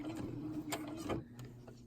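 A sewing machine stitches around a hoodie cuff in quick, faint mechanical bursts with soft ticking, pausing briefly between short runs.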